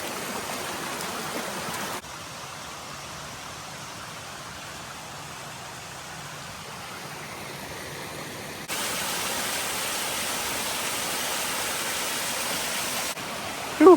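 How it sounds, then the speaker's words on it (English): Steady broadband rush of Upper Buckeye Falls, a long narrow waterfall running at low flow on Buckeye Creek in the Middle Prong Wilderness, continuous and close, swelling louder partway through with no voices. "I think this is Upper Buckeye Falls, but don't quote me on that."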